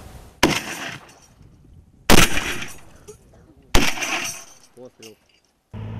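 Three sharp, loud gunshots ring out at intervals of roughly one and a half seconds, each followed by a brief decaying echo, with a short voice between.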